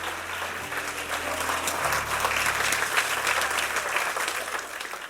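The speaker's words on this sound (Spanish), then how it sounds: "Dale un aplauso al Señor." A church congregation breaks into sustained applause that swells and holds for several seconds, a dense wash of clapping from many people in a large room, with a low organ or keyboard chord sustained underneath.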